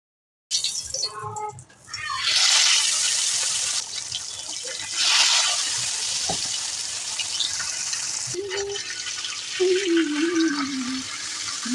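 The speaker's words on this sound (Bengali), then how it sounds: "আর মাছ ভাজির এই শব্দটা আমার কাছে খুব পছন্দের" Pond fish fries in a pan with a loud, crackling sizzle that begins abruptly after a brief silence and keeps hissing steadily, swelling at times as the pieces are moved.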